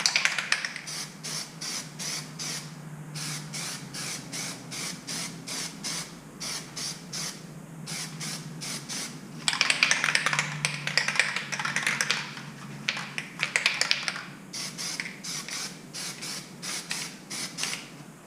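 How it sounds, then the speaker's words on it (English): Rapid bursts of Plasti Dip aerosol spray hiss on and off in short pulses, with a longer sustained spray in the middle, close and fairly loud, coating a 2009-2018 Toyota 4Runner. "I'm getting ready to spray the first coat."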